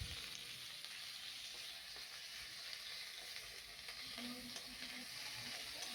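Onions frying with potatoes and okra in a pan on a gas stove, a faint, steady sizzle with occasional stirring scrapes.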